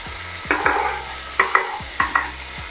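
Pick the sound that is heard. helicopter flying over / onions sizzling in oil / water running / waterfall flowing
onions sizzling in oil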